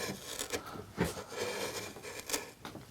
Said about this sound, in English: By creating that slicing motion, much less effort, much more control,